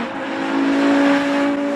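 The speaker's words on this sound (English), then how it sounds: "this thing sounds like an old F1 car" A high-pitched Lexus LFA racing engine in Forza 4 drones steadily, holding a strained whine with slight swells in pitch, loud and close.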